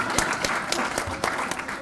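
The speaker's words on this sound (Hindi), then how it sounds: "बजा दीजिए तालियां ना।" Audience applause at a panel on radio and sports commentary, a steady wash of many hands clapping with sharper individual claps standing out, moderately loud throughout.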